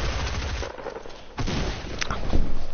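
A pump shotgun fires in a video game match, sending out several loud, punchy blasts with short gaps between them, mixed with other gunfire in a busy firefight.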